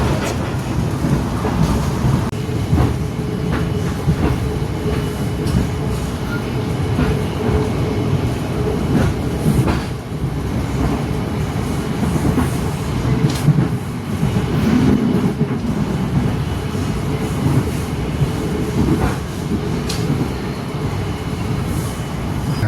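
The Purwojaya passenger train rumbles steadily along the rails, with a continuous loud roar and periodic clacks over the track joints, and no voices.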